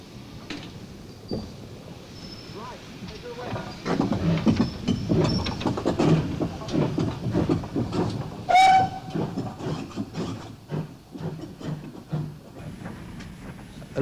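A Dart Valley Railway train pulls away from the station, with steam hiss, rumbling carriages and a sharp whistle blast partway through, heard fairly close over steady rail noise.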